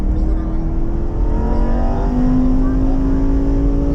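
A Lamborghini Huracan EVO Spyder accelerates on the Canadian Tire Motorsport Park circuit, its engine roaring loud and close with a rising tone as it pulls through the gears.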